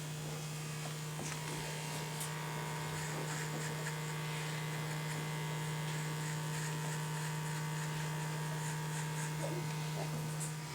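An electric T-blade hair trimmer runs steadily during a skin-tight fade haircut, a constant close buzzing hum with faint clicks of the blade cutting hair, with no talk throughout.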